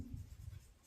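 Writing during a maths lesson, a faint, brief scratch of a pen or chalk stroke, close and quiet.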